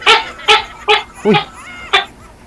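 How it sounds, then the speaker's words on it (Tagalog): A tokay gecko calls in a series of five loud, dog-like barking notes spaced about half a second apart, close by, with a short exclamation from a person. "Narinig niyo ho yung tunog ng tuko?"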